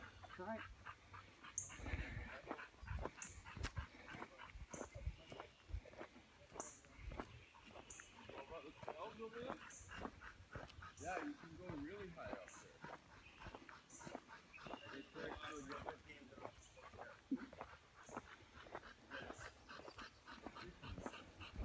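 A dog pants rapidly and rhythmically in hot weather outdoors. The panting is steady and close, with people talking quietly at times over it.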